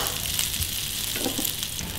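Banana pieces and sausages grill in a hot pan with a dense, continuous sizzling hiss, close and steady throughout.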